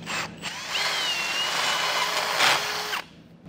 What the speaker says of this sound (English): I like to just enlarge a hole a little bit with a bit here to make that a little easier